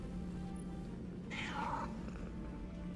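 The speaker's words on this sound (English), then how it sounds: "It meows every time you pull it out." The Nine Lives ghost shell in Destiny 2 gives one short cat meow, a brief snarly cry in the middle over a low steady game background hum.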